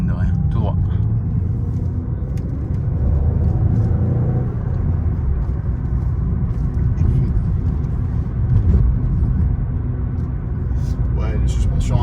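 A Peugeot 406 V6 driving on the road with worn-out rear suspension, a loud continuous low engine and road rumble heard from inside the car, with people talking over it.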